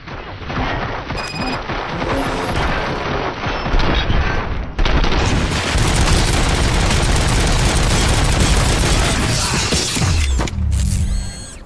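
Heavy sustained gunfire in a RoboCop: Rogue City police station fight, a loud continuous barrage of shots and booming impacts with mechanical clatter, ending in a short lull.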